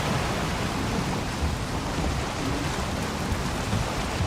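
Heavy storm rain pours without a break in the Valheim game, a dense wash of noise with a low rumble of thunder beneath it, loud and even throughout, with no voices.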